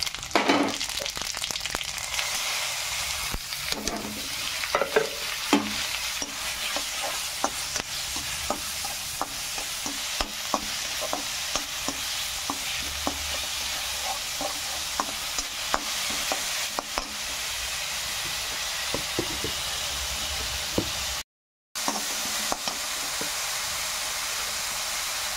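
Cloves, black pepper, a cinnamon piece, asafoetida and cumin frying in hot oil in a kadhai, a steady loud sizzle with frequent crackles and stirring scrapes, briefly cut to silence near the end.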